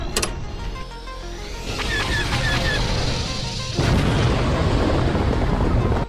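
A spaceship's rear cannons fire in a Star Wars audio drama, with sharp zapping shots and a rising whine that give way to a loud, rumbling explosion roaring on to the end.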